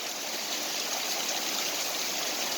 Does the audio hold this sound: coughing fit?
no